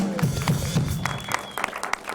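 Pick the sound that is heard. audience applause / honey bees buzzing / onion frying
audience applause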